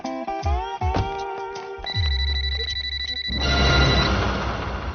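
A telephone rings in a Telugu film scene with a bright, repeated electronic tone. Short tonal bursts come first, then a sustained ring, ending in a noisy swell.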